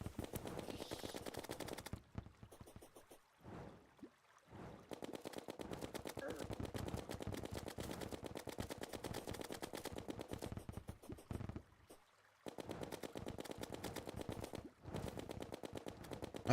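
Rapid, continuous gunfire from recoil shots in the Terraria video game rattles for long stretches, loud and dense, broken by a few short pauses.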